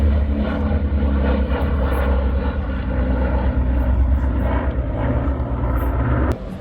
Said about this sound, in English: It's not very often you get to see a B-29 flying overhead.